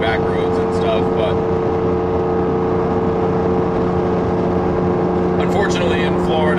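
An Acura NSX's exhaust drones loud and steady from inside the car while it drives, with brief higher bursts of engine note toward the end.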